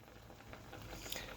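Blackberries boiling in a pot of water that has turned bright purple, giving a steady, soft bubbling patter with no talk over it.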